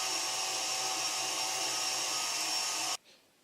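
Electric mixer whirring steadily at high speed while whipping egg whites with the rest of the sugar, a loud continuous motor drone that cuts off abruptly near the end.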